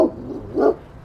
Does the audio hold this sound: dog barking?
yes